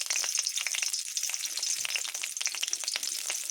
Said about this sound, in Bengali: লঙ্কা ও গোটা গরম মশলা ফোড়ন দেব।